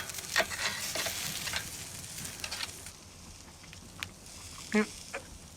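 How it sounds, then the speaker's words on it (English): Cabbage sizzles steadily in a hot pan during cooking, a continuous frying crackle with a few brief clicks and scrapes as it is turned over. "So we flip the cabbage."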